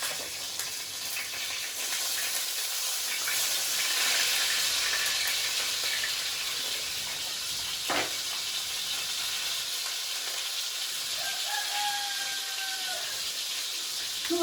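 Cutlets sizzling in a frying pan, about eight to ten at once, giving a steady, fairly quiet hiss that lasts throughout with no talk.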